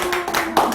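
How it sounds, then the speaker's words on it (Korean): Brief burst of audience clapping at a small live talk or coaching session, a few quick, close claps under faint background voice sounds, lasting under a second. "박수 보내주시고요"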